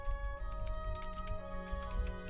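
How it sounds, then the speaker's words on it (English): Quick keystrokes clatter on a computer keyboard in light, irregular bursts of soft taps, heard up close and on their own over a faint background hum. "You'll probably hear me typing real quick."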